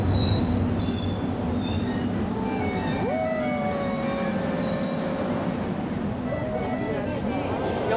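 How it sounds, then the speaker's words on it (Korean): A train pulls into a station, its low rumble and loud wheel squeal sliding in pitch, with a rhythmic clicking throughout and steady heavy noise. "아 기차 들어오고 있어요"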